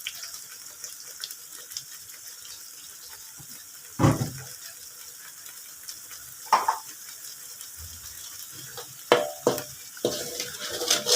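Southern Thai green curry paste stir-fried in a pan gives a soft steady sizzle, broken by a few sharp scraping strokes of a spatula at irregular intervals, close and fairly quiet.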